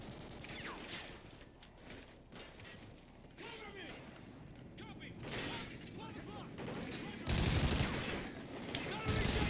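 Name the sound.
gunfire in video game Kinki Spiritual Affairs Bureau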